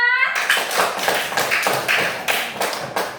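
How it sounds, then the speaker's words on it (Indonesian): Children in a classroom clap their hands together in a quick rhythmic burst, the claps evenly spaced and close, following a brief sung or chanted tone at the start. "Beri tepuk tangan untuk Zulfa."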